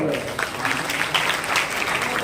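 Students in a commerce accountancy classroom workshop break into steady applause, a dense patter of many hands, with a voice speaking faintly beneath it.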